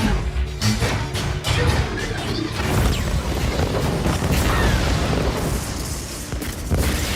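A loud, sustained cinematic explosion of the warship USS Sampson being hit by cannon fire in the film Battleship (2012), with crashing debris and rumbling booms, continuous and dense throughout, heavy low-end roar.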